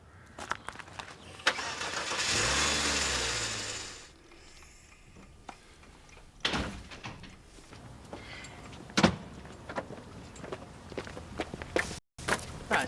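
A car engine revs up and then settles as a car pulls in, followed by scattered footsteps, mechanical clunks and what may be a door closing.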